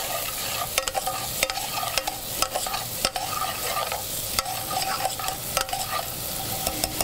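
Shallots and thyme sauté in butter in a pot for mushroom bisque: a steady frying sizzle broken by regular sharp clicks and scrapes of a stirring utensil, close up and free of speech.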